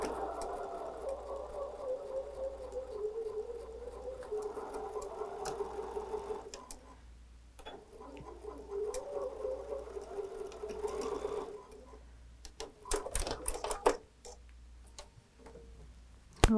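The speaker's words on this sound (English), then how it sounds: "we will sew a 1/4 inch all the way around" A sewing machine stitches a quarter-inch seam around a fabric pincushion at a short stitch length, running in steady bursts with brief pauses, close and fairly loud, with a faint voice underneath.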